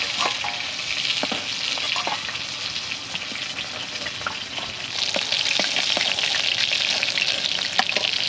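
Bhangor river fish fry in hot oil as the pieces are lifted out one by one, giving a steady, close sizzle broken by occasional clinks and scrapes of the utensil.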